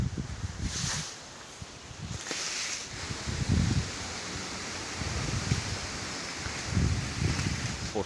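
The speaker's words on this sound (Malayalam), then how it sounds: "അത്യാവശ്യം കാറ്റുണ്ട്, ചെറിയ രീതിയിൽ പാർന്നുണ്ട്." Strong gusty wind blows during rain on a stormy red-alert day in Kannur. A broad, rushing whoosh rises and falls with dull low buffeting, heard alone and fairly faint.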